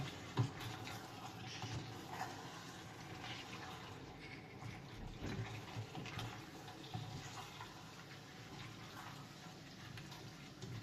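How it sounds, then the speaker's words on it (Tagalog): Water poured from a glass into a pot of cooking green beans with pork, a steady close splashing stream that runs on at a quiet level without pause. "Lagyan po natin ng isang basong tubig"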